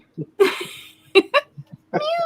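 A cat meows several times up close, drawn-out and wavering calls, mixed with a person talking.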